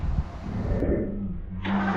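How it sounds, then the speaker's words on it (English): A Honda CL450 motorcycle's starter motor whirring as it cranks the engine, a short close mechanical spin that cuts out partway through and then resumes briefly. "Did you hear that? The starter works."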